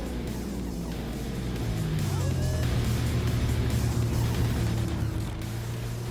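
Nissan Group 3 race car engine in Gran Turismo 7, a steady droning engine note that climbs and settles through gear changes, loud and close throughout.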